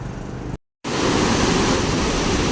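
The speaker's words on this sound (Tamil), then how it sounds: "இங்க பாருங்க தண்ணி சத்தம்." Water rushes loudly and continuously as a broad steady roar, broken by a short cut to silence before it resumes at full strength.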